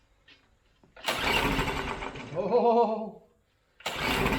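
A Briggs and Stratton mud motor cranking and firing into life, a loud close engine roar that rises and wavers for several seconds, cuts out, then bursts back at the end, with a short spoken exclamation near the start.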